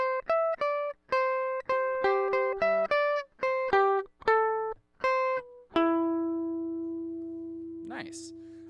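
Guitar picking a song's riff, a sequence of clear plucked notes and chords in a steady rhythm, ending on a sustained ringing note that slowly fades, close and alone.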